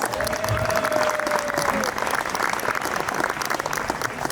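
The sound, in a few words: crowd applause at Midsummer celebration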